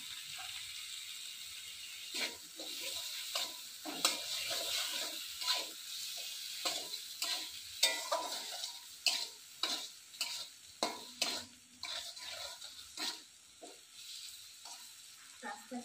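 Tomatoes fry in hot oil in a pan as they are stirred, a soft steady sizzle broken by repeated scraping, clacking stirs that fall into a fairly regular rhythm, fairly faint and close.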